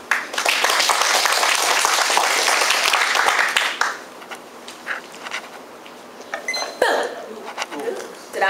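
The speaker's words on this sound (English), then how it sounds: "Applause for her." Dense, loud audience applause greets a performer at a live stage show, filling the first half before breaking off into scattered sounds and quieter talking.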